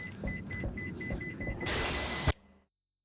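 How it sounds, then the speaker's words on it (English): A beeping device in the video game Cold Fear sends out a steady run of evenly spaced electronic beeps over low game ambience, then a loud hiss starts and cuts off abruptly with a thud before silence. "Why is that beeping?"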